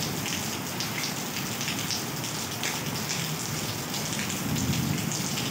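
Heavy rain pours steadily onto standing floodwater and the ground outside a gate, a dense, loud, unbroken hiss and patter with no voices.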